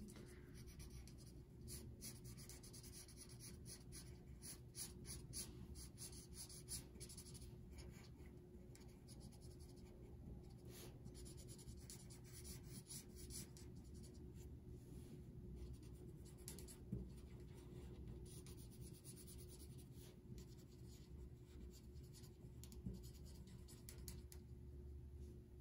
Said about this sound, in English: Going back with the fine tip where I can get a lot closer to the outlined parts